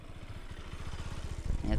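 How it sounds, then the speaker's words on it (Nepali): A scooter being parked at a roadside camping spot, its engine chugging in a rapid, even idle that swells louder toward the end, with people talking over it. "मोटर दाइले स्कुटर पार्किङ गरिरहनु भएको छ"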